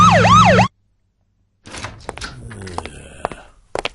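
A loud, wailing siren sweeps up and down for under a second, cuts off abruptly into silence, then scattered clattering and knocking follow.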